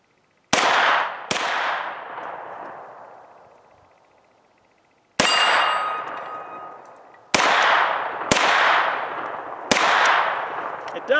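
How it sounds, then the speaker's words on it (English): A CZ Scorpion Evo 3 pistol with its adapter brace folded fires six sharp, loud shots with no voices. They come in irregular bursts: two close together, a pause, then four more, each cracking and ringing out. "But does it fire with the brace folded?"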